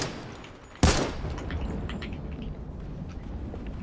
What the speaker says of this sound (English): Because there's shots in your direction.